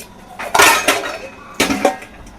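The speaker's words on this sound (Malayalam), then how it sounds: "ഒരു ലോഡ് പാത്രം കഴുകാണ്ട് കേട്ടോ ഒരു ലോഡ് പാത്രം കഴുകാൻ" A big load of dishes and pots being handled for washing, a few loud close metallic clatters and clinks in two bursts.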